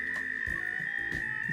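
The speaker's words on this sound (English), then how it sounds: "These frogs are really loud." Repeated low croaking pulses, loud and close, over a steady high-pitched chorus of calling frogs.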